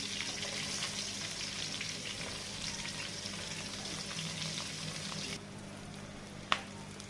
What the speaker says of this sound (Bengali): পেঁয়াজ কুচি আর কাঁচা ঝালচিটা ভেজে নেব